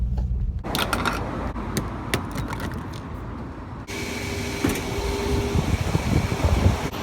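A steady broadband whoosh of air from a car's air-conditioning vent in a Ford Mustang 5.0, close by and continuous, with faint clicks and handling knocks and a brighter hiss partway through.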